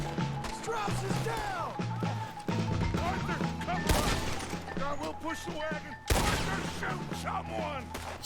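Gunshots crack in Red Dead Redemption 2, two loud sharp reports ringing out a couple of seconds apart amid game music and ambience, with someone talking over much of it.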